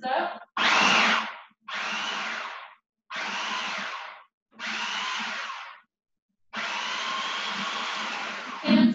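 A kitchen blender pulsing a thick Middle Eastern puree, five short whirring bursts followed by one longer run, loud and close with brief pauses between.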